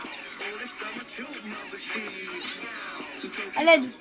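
A cat meows in the Fortnite video game, a short close meow near the end amid game sounds, with a voice speaking French over it.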